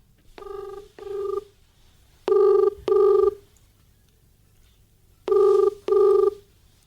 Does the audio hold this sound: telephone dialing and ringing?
yes